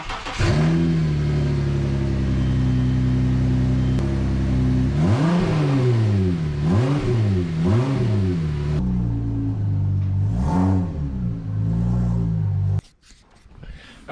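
A 2000 Audi A6 engine idles, then revs up and down several times in uneven bursts as the car turns around, before cutting off abruptly.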